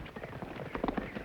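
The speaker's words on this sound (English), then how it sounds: "Me hear horses." Hooves of several horses clip-clopping in an uneven, quickening rhythm, fairly faint and somewhat distant, drawing nearer over a short stretch.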